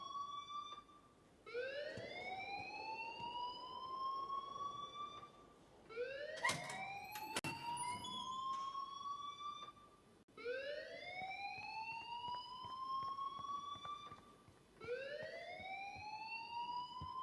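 A school alarm in the video game Life Is Strange wails in repeated rising sweeps, each tone climbing and then cutting off before starting again. Loud and continuous, it is broken briefly by a few sharp clanks, and no one speaks.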